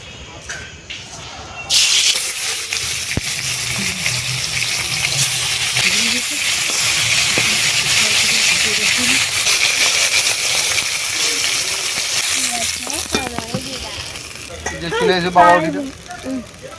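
Fish coated with salt and turmeric frying in hot oil, a loud steady hiss and sizzle that bursts in suddenly and runs continuously, with people talking over it near the end.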